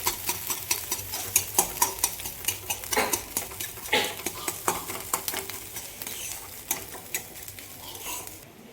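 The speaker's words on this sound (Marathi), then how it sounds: "असं फोडत राहायचं म्हणजे मोकळी भुर्जी होते" Beaten eggs for egg bhurji sizzling in a pan while a spoon repeatedly scrapes and breaks up the curds, a steady run of sharp close clinks and scrapes over the frying hiss.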